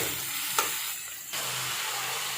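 Chicken pieces being stirred and mixed in a hot pan make a soft, continuous sizzle with scraping strokes and one sharp clink of the utensil, heard alone at moderate volume.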